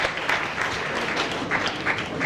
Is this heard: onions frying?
no